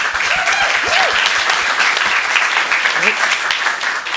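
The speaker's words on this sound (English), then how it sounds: "Big round of applause for that." Steady, loud applause fills a city council chamber in Burbank, a dense crowd clapping without pause, while a few voices speak faintly over it.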